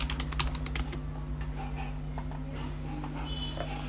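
Rapid keyboard typing while code is written for a LeetCode binary search tree problem, a run of dense clicks at the start and then sparser keystrokes over a steady low hum.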